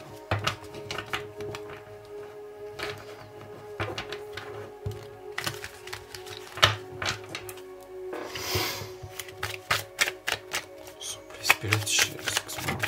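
Tarot cards are shuffled and drawn by hand in a series of crisp riffling, slapping and flicking bursts, with a steady hum and soft music beneath, close and moderately loud.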